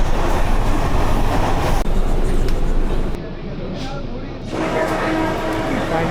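Rumbling and rattling of a crowded Mumbai commuter train at peak time, with crowd noise and voices around, the din dropping briefly before picking up again.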